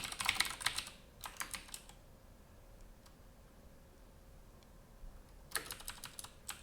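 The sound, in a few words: typing on a computer keyboard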